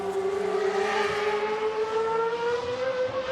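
A Formula 2 race car laps the Barcelona circuit during qualifying, its engine a high steady whine that slowly rises in pitch as it accelerates, heard at moderate distance without any talk.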